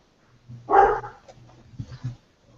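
A dog barks once loudly and up close, then gives a few softer, shorter yips and whimpers.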